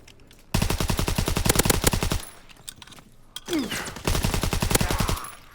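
Two long bursts of rapid automatic gunfire from a gun in the video game Call of Duty: WWII, loud and close, separated by a brief lull with a few scattered shots and clatter.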